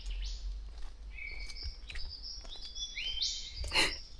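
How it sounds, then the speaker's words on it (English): Several birds in a rainforest chirp and whistle in bright, sliding calls, overlapping at moderate distance over a quiet low background hum. "I'm sure you guys can hear all the birds in the background"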